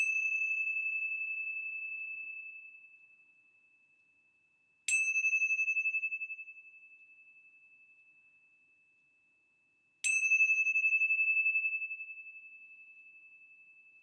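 A bell is struck three times at even intervals, each clear ring lingering and slowly fading before the next strike, opening a bells of hope session.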